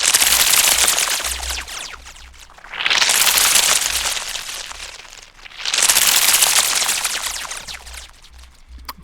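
A processed dense foley texture with a thick crackling, rustling layer. It swells loudly in repeated waves, each a few seconds long, with a faint low pulsing underneath.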